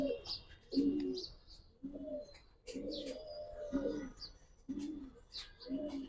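A pair of Mushaldam pigeons coo close by in repeated low rolling phrases with short pauses, while faint higher chirps and twitters sound in the background.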